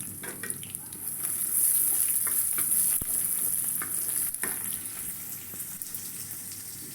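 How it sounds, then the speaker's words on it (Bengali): Onion frying in hot oil in a pan hisses with a loud, continuous sizzle, punctuated by occasional stirring clicks and scrapes. "পেঁয়াজটা লাল হওয়া পর্যন্ত ভেজে নেব"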